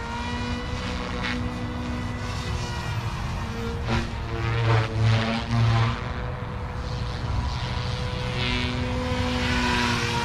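RC helicopter, an OMP Hobby M4 or Goosky RS4 Venom, in fast forward flight at high head speed, giving a continuous loud whine with steady tonal harmonics and slight pitch shifts as it passes.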